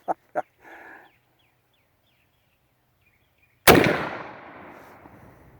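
A single sharp, loud blast from a New Tradition's .50 side lock muzzleloader fired at a 50-yard target, with a decaying tail, preceded by a few faint clicks and a short rustle in near silence.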